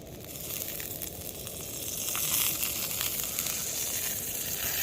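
Onions and garlic frying in oil in a pan at a rainy tent campsite, a steady close crackling sizzle that swells slightly and holds, with no talking.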